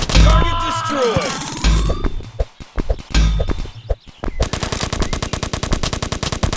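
Assault rifle fire from the Jack Street video game comes in loud, rapid automatic bursts with sharp cracks, separated by short gaps. The clip ends on a long, sustained rattling burst.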